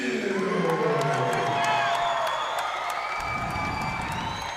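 At a cage fighting event, a crowd of fans cheers and whoops loudly and steadily, with a sustained roar of many voices that eases slightly toward the end.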